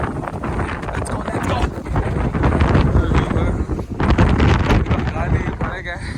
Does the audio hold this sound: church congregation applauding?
no